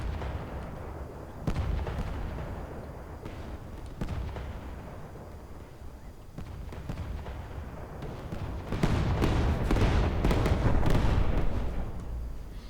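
Incendiary weapons fire in a destroyer-combat video game tournament, with repeated booming bursts and crackling blasts that rise to a dense, rumbling barrage near the end.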